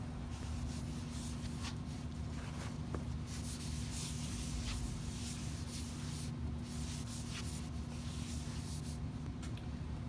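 A cloth rubbing rust remover off a rusty bandsaw's metal surface, heard as soft repeated scrubbing strokes over a low steady hum, faint and close.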